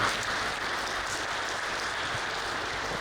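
An audience at a formal police press event applauds, a steady dense patter of many hands clapping at moderate distance, continuous for a few seconds without talk.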